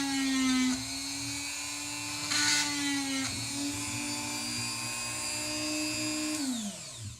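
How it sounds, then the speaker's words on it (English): A new Dremel rotary tool whines at a high steady pitch while drilling into a small vape-pen part, the tone dipping briefly under load and then winding down at the end, close and clear with no talking. "New Dremel."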